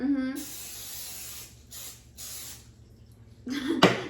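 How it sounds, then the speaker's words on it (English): Several short hissing bursts of an aerosol cooking spray greasing a 2-quart baking dish, close by, with brief gaps between them and a voice briefly at the start and end. "we are going to grease a 2-quart baking dish with some cooking spray"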